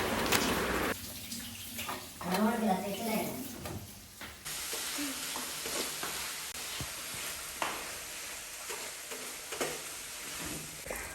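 Onion, tomato and green chilies sautéing in a pan with salt and pepper, a low sizzle and occasional stirring scrapes, a person talking over it early on.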